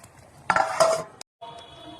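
A metal lid clanks onto a cooking pot of chicken curry with potatoes, a short bright rattle followed by a brief settling clink, close and loud with no talk.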